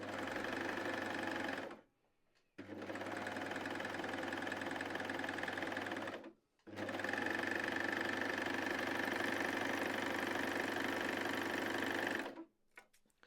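An overlocker with the blade on and differential feed at maximum gathers fabric, its fast, even motor hum and stitching chatter running in three long bursts separated by short silent pauses, close and steady.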